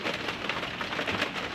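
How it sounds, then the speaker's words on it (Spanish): Steady summer rain falling in Mdina, Malta, a dense continuous patter of drops on hard surfaces, close and even with no voices. "primera lluvia del verano"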